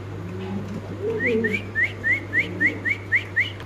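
Pigeons at a bird market, including red pigeons, coo and call nearby in a run of rhythmic, rising notes over a low steady hum.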